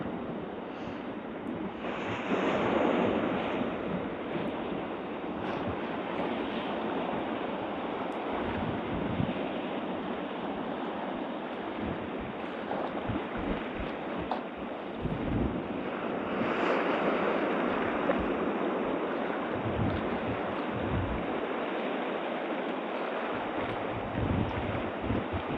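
Strong wind roars across the microphone on the Cape Point coast, with surf crashing beneath it in a constant broadband wash, swelling louder in gusts and never pausing.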